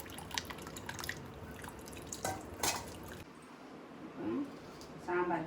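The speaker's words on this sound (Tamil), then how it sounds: "ஒரு நெல்லிக்காய் அளவு புளி கரைச்சி அதில் ஊற்றிடுவோம்." Dissolved tamarind water splashes and drips into sambar cooking with chayote and small onions, the liquid sounds soft and close under someone speaking.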